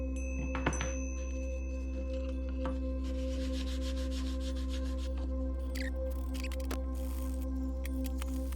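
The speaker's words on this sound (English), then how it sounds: "I used a wire wheel on the Dremel to kind of clean it up" A wire wheel on a Dremel scrubs a corroded hinge from an antique Brandt + Wilde camera. A steady motor whine runs under repeated rasping, scratchy bursts of wire bristles against the metal.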